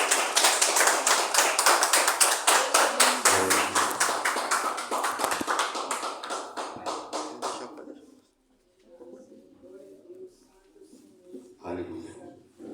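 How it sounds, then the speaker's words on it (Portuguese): A church congregation clapping during a Communion worship service, rapid rhythmic claps loud and steady for several seconds before thinning and stopping, followed by quieter voices and a brief burst near the end. "Palmas para Jesus."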